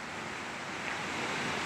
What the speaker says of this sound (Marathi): आता आम्हाला एक छोटासा धबधबा भेटलाय, म्हणजे ओढा आहे